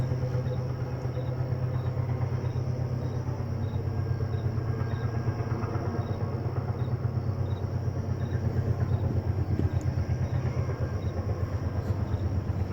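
A train rolls by nearby with a steady low rumble and repetitive clacking of wheels, a faint tone and light clanks riding over the constant noise.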